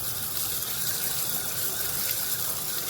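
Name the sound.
washing fish under running water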